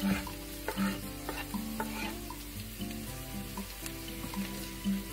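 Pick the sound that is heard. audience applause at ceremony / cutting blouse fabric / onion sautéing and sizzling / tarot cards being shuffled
onion sautéing and sizzling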